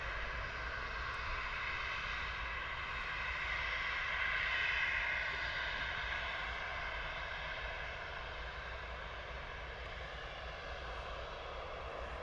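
A Ryanair Boeing 737 departing Bristol Airport makes a sustained, loud engine roar with a tonal whine that swells slightly midway and then holds steady, heard alone without talk.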